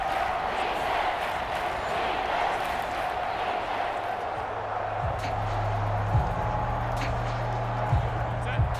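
A large stadium crowd at an NFL game between the Los Angeles Chargers and Kansas City Chiefs roars in a steady, dense wash of noise, with a few thumping beats rising through it near the end.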